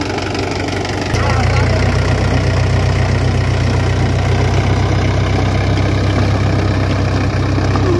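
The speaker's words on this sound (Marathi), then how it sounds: "ट्रॅक्टर साह्याने कमीत कमी 10 ते 15 वेळेस हे असं मागे पुढे करावं लागते" A tractor drives back and forth over wet clay, mixing it for brick making at a brick kiln. Its engine drones loud and steady throughout, rising in a heavier, rumbling pitch after the first second.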